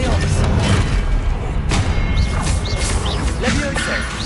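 A spell is cast in the Hogwarts Legacy video game, giving a loud, dense burst of magical crashing and whooshing effects with a few bright rising tones, set against game music and clutter throughout.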